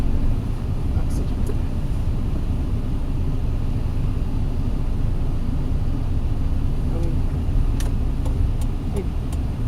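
Steady low road rumble from a car accelerating during a driving-practice lesson in Japan, a constant cabin drone with faint clicks and ticks, continuous and fairly loud, with brief instructions spoken over it.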